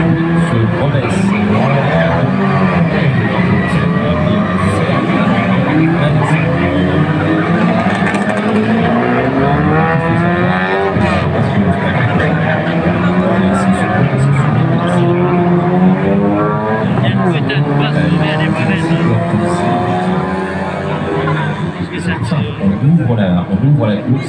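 Mini race cars on a street circuit roar past continuously, engines rising and falling through gear changes with occasional tire squeal, loud and close, while a commentator speaks over the racing.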